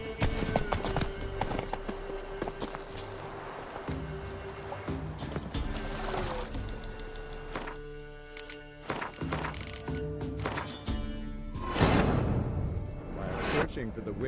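Roach, Geralt's horse in The Witcher 3, clip-clops along at a slow pace, hoofbeats steady under music and game ambience, with a voice speaking briefly partway through.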